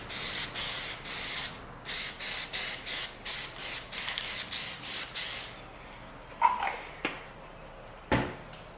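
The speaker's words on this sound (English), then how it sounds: "you're spraying it down lightly so you give the later coats something to really like stick and adhere to" Plasti Dip aerosol is sprayed in a light first coat: about a dozen short, regular hissing bursts close by, then a few scattered sprays and clicks after a pause.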